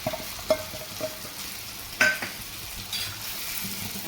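Banana pieces frying in oil as gravy is poured over them, giving a soft steady sizzle with a few scraping stir knocks and one sharper splash of liquid, close and moderately quiet with no talking.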